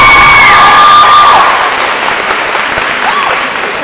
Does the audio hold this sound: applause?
yes